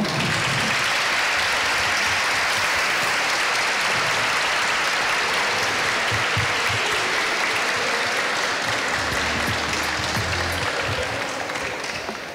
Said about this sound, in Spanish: lo que os voy a pedir es que demos un aplauso a Kim, a Keiko y a Antonio